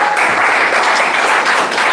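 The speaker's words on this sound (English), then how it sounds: "A round of applause for our first." A crowd claps at a school class reunion evening, dense, loud and continuous applause filling the whole short stretch.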